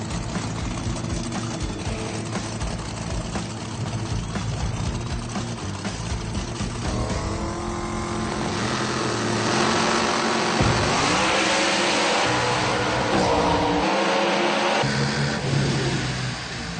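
Loud, close engine roar of a drag race car at Bandimere raceway for a Street Outlaws No Prep Kings race, a dense sustained rumble that rises and shifts in pitch, building to a harsher peak before a brief dip.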